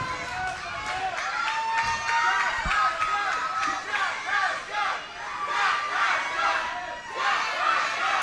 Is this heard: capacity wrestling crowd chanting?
yes